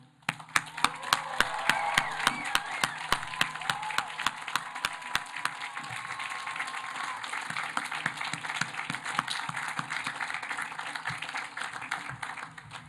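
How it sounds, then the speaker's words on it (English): A commencement audience applauds the graduates at a college ceremony, dense sustained clapping with bursts of cheering that swells early and then holds steady, loud and close for the whole stretch. "Let's give our graduates one last cheer."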